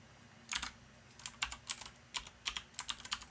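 Close computer keyboard typing comes in quick, irregular bursts of crisp keystroke clicks with short pauses between runs, and nobody speaks over it.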